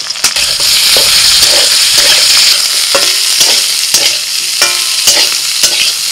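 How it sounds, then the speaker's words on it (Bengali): Sliced onion rings frying in hot oil alongside half-fried bitter gourd, a steady loud sizzle with repeated stirring scrapes and clinks of a spatula against the pan throughout. "করলাটা হাফ ভাজা হয়ে গেছে, এবার পেঁয়াজ দিয়ে দিচ্ছি"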